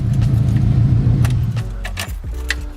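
A car engine idles steadily and then cuts out as the ignition key is turned off, followed by a few sharp jangles of the key ring close by.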